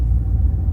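A Toyota Tundra's 5.7 litre V8 engine at full throttle, a brief deep low rumble that holds steady and loud with no audible rise in pitch.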